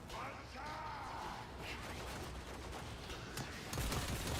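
Cannon fire in the video game Warframe: a loud, continuous barrage of booming shots and crashes layered with whooshing effects, dense and unbroken throughout the stretch.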